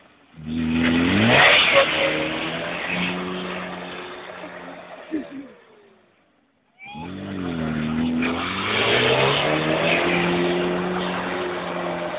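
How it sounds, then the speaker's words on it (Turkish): A Volkswagen car drifts with its engine revving hard and surging, tyres squealing through the slide, loud and close; a short lull near the middle, then another long revving run. "Volkswagen'le drift yaptık"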